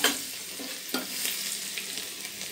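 Crushed garlic sizzles and crackles in hot oil for a tadka, a continuous bright hiss with a few sharper pops, close and moderately loud, no talking.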